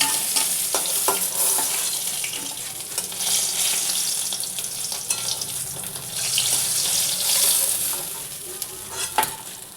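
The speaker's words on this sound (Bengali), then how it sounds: "মাছটা ভালো করে ভেজে নিই বন্ধুরা" Bhetki fish fries in hot oil in a pan, giving a steady, fairly close sizzle with intermittent spatter and stirring clatter and no voices.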